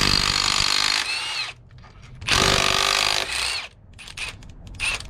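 A power tool whirs in repeated bursts while removing bolts from a BMW S54 engine during a rod bearing job, close and loud with short pauses between pulls.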